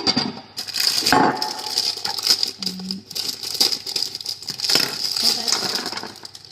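A leftover bag of vegetables is tipped into a cooking pot of lentils and water, giving a rattling patter of tumbling pieces and some plastic crinkling, fairly close with no talk.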